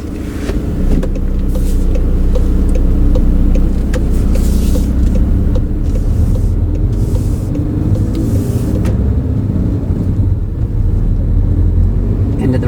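A car on a driving lesson rolls along the road, its low engine and tyre rumble steady and close from inside the cabin, with occasional voices.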